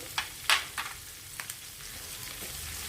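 A whole sprig of home-grown curry leaves fries in hot oil, giving a soft continuous sizzle broken by a few sharp crackling pops early on.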